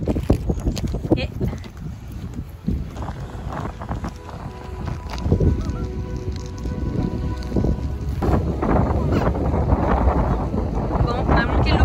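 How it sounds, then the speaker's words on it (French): Strong wind buffets the microphone at a campsite in Gaspésie under an overcast evening sky with rain approaching, a continuous broadband rumble and gusting roar with voices talking over it in places. "Il y a beaucoup de vent et la pluie arrive."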